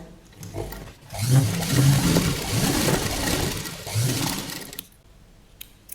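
A sewing machine stitches a padded katori blouse, running in one continuous whirring, thumping burst for several seconds before stopping, with no voices.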